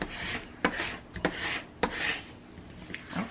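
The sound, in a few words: burnishing paper down for a journal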